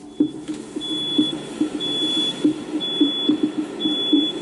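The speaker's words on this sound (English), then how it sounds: "alarms inside the abandoned movie theater" A high-pitched electronic alarm beeps on and off inside an abandoned movie theater in a mall, with a soft rhythmic thumping in the background of the echoing room.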